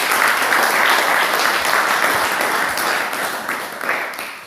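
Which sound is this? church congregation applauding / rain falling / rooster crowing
church congregation applauding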